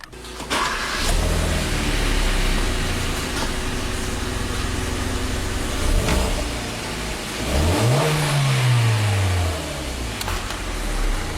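A Hyundai Veloster Turbo engine cranks and catches, settles into a loud close idle, then gives a quick rev that swells and falls away.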